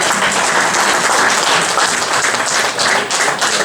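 Audience at a formation workshop clapping hands together, dense and loud sustained applause that fills the room with no speech over it.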